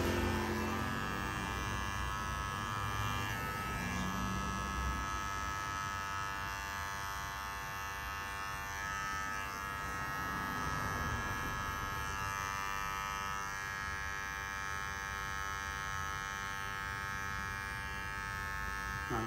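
Electric hair clipper buzzing through a low fade cut in a barbershop, a constant thin motor whine with faint fluctuations as it passes over hair, fairly quiet, running alone with no speech over it.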